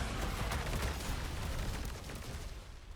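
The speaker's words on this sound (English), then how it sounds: "It's a flat cannon." In Trailmakers, a flat cannon lets off a burst of several rapid, muffled booming shots that blend into a rumbling volley before tapering off.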